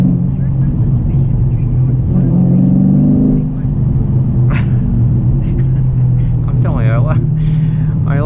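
Car engine revving with a deep, loud, steady rumble that swells in pitch midway and then settles, close by, as someone talks over it.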